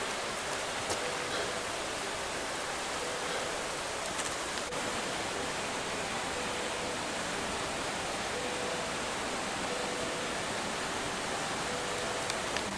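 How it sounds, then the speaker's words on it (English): Roaring Lion Creek flows as a constant broad rushing of water, steady and moderately loud throughout with no breaks, heard outdoors along a trail. "That's the Roaring Lion Creek out there."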